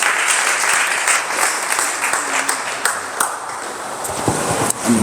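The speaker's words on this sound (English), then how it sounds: "A round of applause" A loud, dense round of applause greets National Sales Manager Tope Oyedopo after his brief product presentation, steady and close for about five seconds with a few voices mixed in.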